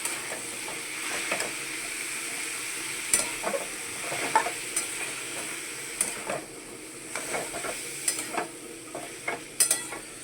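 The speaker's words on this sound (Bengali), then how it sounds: "এবারে বেশ ভালো করে নাড়াচাড়া করে ভেজে নিতে হবে।" Snake gourd being stir-fried with turmeric in a pan, a steady sizzle of frying under repeated scraping and clattering strokes of a spatula as the pieces are tossed, close and moderately loud with no talking.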